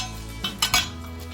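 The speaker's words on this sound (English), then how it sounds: "Okay, we got two pans." Two short metallic clanks of pans knocking together, close by, over a low steady background hum.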